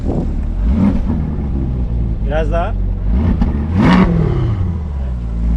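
A Corvette Stingray engine revs up loudly once or twice on a race track, roaring close by, with a voice speaking briefly over it.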